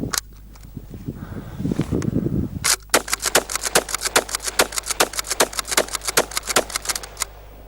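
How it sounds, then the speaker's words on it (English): A Remington 7615 pump action rifle fires about ten rapid shots, each followed by quick racking of the action, after a brief handling clatter and some shuffling at the start. "you've got some quick rapid follow-up shots with this 7615"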